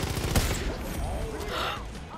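A sniper rifle shot in the video game Far Cry 5 gives one loud sharp crack early on, followed by a sustained noisy game soundscape and faint background voices.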